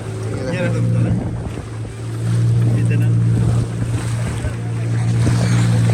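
A motorboat heads out to sea off Goa, its engine droning steadily and loudly under wind buffeting and water rush, with voices talking over it.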